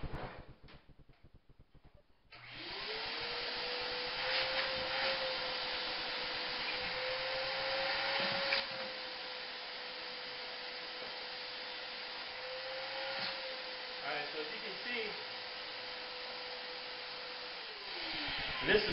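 A vacuum pump starts up and drones steadily while evacuating a homemade partial vacuum chamber. Its hum is loud and even, with faint rubbing and creaks over the top, for about sixteen seconds.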